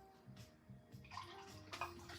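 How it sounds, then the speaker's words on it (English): Warm water poured over yeast for cranberry nut bread dough in a trailer kitchen, a faint, close splashing trickle in short bursts. "And I've got some warm water here."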